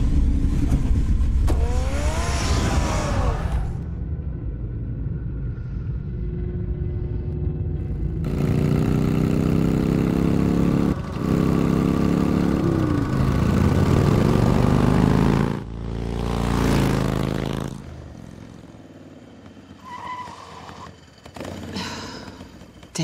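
Batman's car in Batman: The Telltale Series, a loud engine roaring and revving through several surges with whooshing passes and shifting pitch, long sustained rumble punctuated by sharp bursts and a brief quieter stretch near the end.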